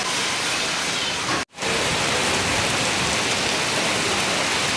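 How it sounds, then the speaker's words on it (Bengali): Heavy rain pours down outside, a dense, steady hiss of water hitting surfaces that is broken only by a brief dropout near the start, with no voices. "বাইরে পড়ছে প্রচুর পরিমাণে বৃষ্টি"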